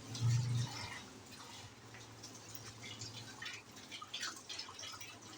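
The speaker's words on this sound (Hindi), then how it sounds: "थोड़ा सा पानी डालती हूँ इसके अंदर" A little water is poured into frying masala and browned onions for chicken nihari. A short pour comes first, then a low, steady sizzle and bubbling continue close by with no talking.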